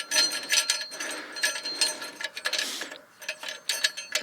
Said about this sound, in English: take the stud out of the bottom here, just unscrew this like that